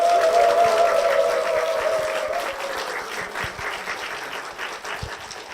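A church congregation applauds its pastor in a steady, dense round of clapping that gradually softens, with a sustained musical tone under the opening seconds.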